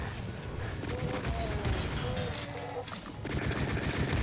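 Rapid bursts of gunfire from a multi-barreled flak cannon in the video game Doom, dense and loud with overlapping shots and a steady background roar.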